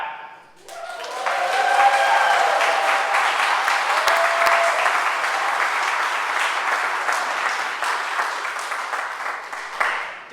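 A worship congregation bursts into sustained, loud clapping with scattered joyful shouts, swelling quickly and holding steady for several seconds before tapering off near the end.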